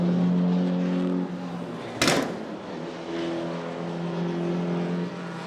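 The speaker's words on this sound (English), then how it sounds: "That distinctive popping sound you might have heard over the mics just then, there's one of the Mitsubishi Evos" A Mitsubishi Evo race car in a 35-minute circuit race lets out a sharp, loud exhaust pop midway through a steady engine drone that fades and returns at a moderate distance.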